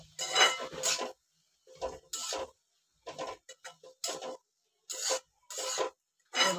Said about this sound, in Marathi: हे बघा, ते मशरूम ढळून द्यायचे